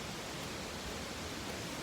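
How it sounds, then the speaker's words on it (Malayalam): The Attila waterfall in Palakkad rushes as a constant, dense roar of falling water, steady and unbroken throughout with no voices. "വെള്ളച്ചാട്ടത്തിൻ്റെ സൗണ്ട് കേൾക്കുന്നുണ്ട്."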